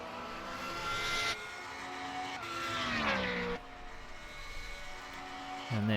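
A race car powers onto a circuit's back straight. Its close engine note climbs in pitch through several gears, with clear breaks at each shift.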